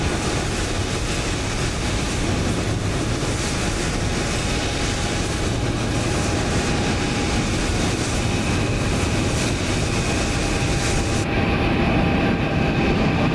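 A Boeing 777-200 arriving at Edinburgh in Microsoft Flight Simulator 2020, a steady, loud broadband jet engine roar with a faint whine, sustained and unbroken throughout.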